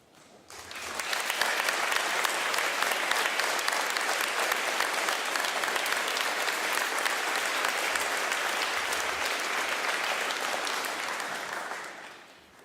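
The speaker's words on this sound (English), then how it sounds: "would you all please rise so that we can give you a round of applause?" A crowd at a Veterans Day ceremony in Fishers applauds elected officials, sustained dense clapping that swells quickly, holds evenly for about ten seconds and fades out at the end.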